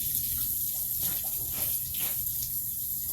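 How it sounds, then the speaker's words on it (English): Laundry is washed by hand with water, giving continuous running and splashing water with soft sloshes and swishes throughout, near and steady. "And that's how you wash laundry."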